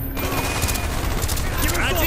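Rapid bursts of Call of Duty: Black Ops gunfire crackle continuously under a low rumbling backdrop, dense and loud from start to finish.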